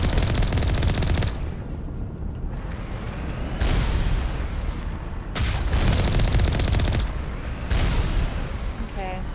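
Gunfire in the game Mass Effect Legendary Edition: dense bursts of heavy, booming shots in several waves, loud and close with short lulls, plus a faint voice.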